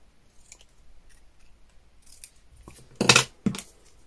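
Scissors cutting paper at an angle for a travel album page, with soft handling rustles and then two sharp close snips near the end.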